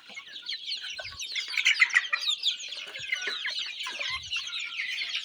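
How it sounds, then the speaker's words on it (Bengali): A flock of desi chickens clucks and chirps softly while pecking at feed in their pots, a close, busy chatter of overlapping calls with faint knocks of beaks on the containers. "দেখুন মুরগিগুলি কি সুন্দরভাবে খাচ্ছে খাবারগুলো"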